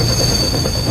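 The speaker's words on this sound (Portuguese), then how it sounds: "Conforme mais trens circulam nos trilhos, um novo risco ameaça causar caos." São Paulo metro trains run on the tracks with a loud, continuous rumbling roar and a thin high whine riding above it, close and unbroken throughout.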